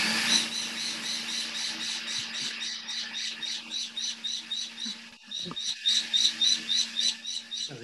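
A pet bird imitates a Vitamix blender, giving repeated high rasping squawks in a pulsing rhythm, close and fairly loud over a faint steady hum, with a short pause midway before the bursts resume.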